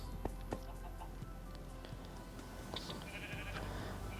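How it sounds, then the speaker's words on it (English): Sheep bleat on a walled farm in a blocky survival video game, several short faint calls scattered over a low steady background hum. "My sheep farm."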